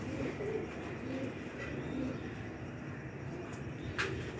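Sherkoti pure pair of pigeons cooing softly and repeatedly under a steady broad background noise, faint and near, with a voice in the mix.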